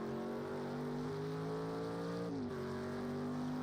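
A Group C race car at Road America in a sim racing game, engine droning loud and steady as it exits the last corner, pitch dipping briefly with a gear change before holding on.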